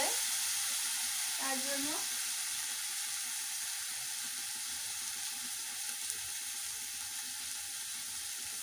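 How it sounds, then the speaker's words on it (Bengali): A spice paste is stirred and fried in a pan, a steady, close sizzle with faint scraping throughout. Someone speaks briefly near the start. "এবারে এটাকে ভালো করে নাড়াতে হবে, মানে কষাতে হবে"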